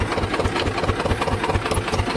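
A Swaraj 724 tractor engine runs loud and close with a steady, rapid low knocking pulse, idling evenly throughout.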